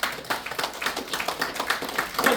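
Steady applause from an audience at a speech, a dense patter of many hands clapping at a fairly even level throughout, with no voices over it.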